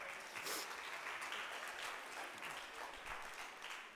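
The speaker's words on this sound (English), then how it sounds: "Everybody give Taylor a round of applause." An audience applauds a volunteer named Taylor, invited up to try the drums at a live session. Steady, dense clapping runs the full four seconds at a fairly soft, distant level with no clear voices.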